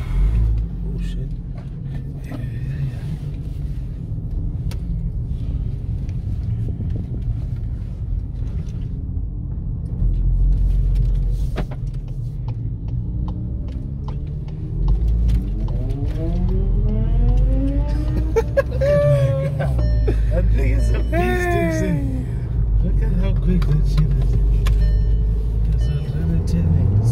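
A VW Polo GTI with a 2-litre engine climbs the Franschhoek mountain pass, a steady low rumble that swells into rising revs as it accelerates, heard from inside the car with some talk.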